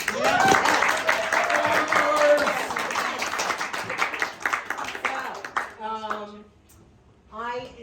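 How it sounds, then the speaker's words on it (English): An audience at a Transition Town planning meeting claps for local farmers, a dense burst of applause with cheers that tapers off before a voice speaks. "Clap for the farmers."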